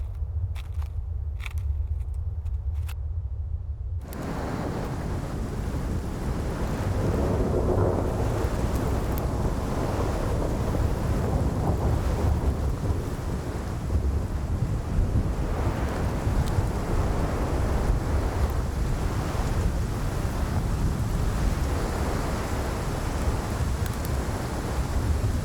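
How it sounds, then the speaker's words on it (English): A heavy thunderstorm with rolling thunder, steady rain and gusting wind buffeting the microphone, continuous and loud throughout after a brief quieter opening. "they'll have to brave the terrifying storm alone"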